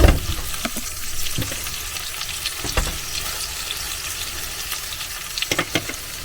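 Food frying in butter in a pan inside a motorhome kitchen, a steady close sizzle with occasional clinks and scrapes of stirring, no talking.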